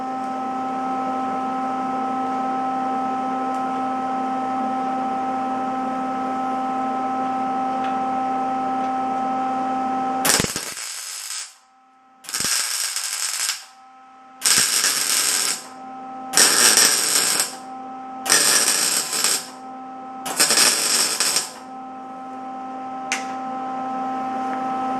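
A welder works on polished stainless steel exhaust tips for a 1974 Chevy Nova. A steady machine hum gives way to six short, loud bursts of crackling weld noise with brief pauses between them.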